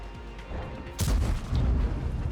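A tank cannon fires once in World of Tanks, a sudden loud boom with a heavy low rumble that trails off over engine and battle noise.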